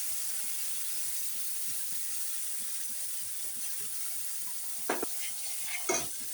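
Mustard, green chilli and poppy seed paste fries in oil with black cumin in a pan, giving a steady close sizzle with a few sharper scraping stirs near the end.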